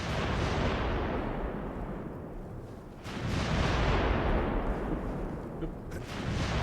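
Turrets being shot in the video game Haze, two heavy booming blasts that each decay into a long rumbling roar, loud and close, with no voices.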